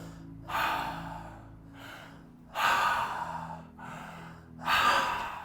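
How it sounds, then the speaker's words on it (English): Three deep breaths drawn and released through the mouth at a men's wellness retreat, each a loud, rushing whoosh spaced about two seconds apart, with quieter breathing in between and no talking. "we take 3 deep breaths through the mouth"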